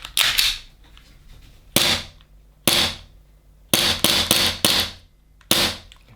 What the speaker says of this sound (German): Ich mache mal ein bisschen Dry Fire.